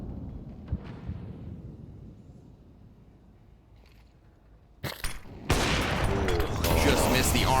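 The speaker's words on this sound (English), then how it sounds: "See when Caserado slots in these nades that keep pummeling him." Grenades exploding during a Counter-Strike 2 esports match, deep rumbling blasts and gunfire that swell into loud, sustained explosive noise near the end, under a commentator's voice.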